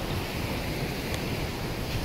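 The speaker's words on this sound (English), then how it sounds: "I'm at a river kind of thing." Steady broadband rush of water at a river, constant and fairly loud throughout with no voices over it.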